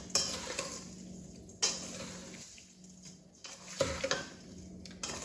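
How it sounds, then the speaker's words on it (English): A spoon stirs homemade cherry pie filling thickened with corn flour in a pot, giving close, intermittent scrapes and sharp clinks against the pan with quieter swirling between them and no talking. "And we're just gonna stir it."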